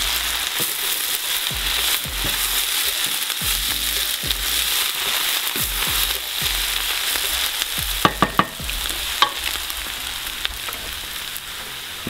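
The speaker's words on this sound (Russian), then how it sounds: "Возвращаем картофель. Хорошенечко перемешиваем." Potatoes frying in a pan crackle and hiss steadily while a spatula stirs them, with repeated scraping strokes and a cluster of sharp knocks against the pan near the end.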